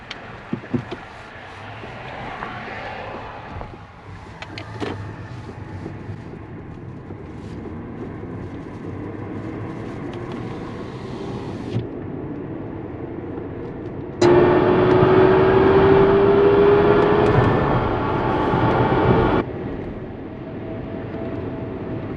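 A Kia Soul EV electric car driving after reassembly, a steady low road and motor hum from inside the cabin, a rising whine for a few seconds partway through, then a quieter cruise again.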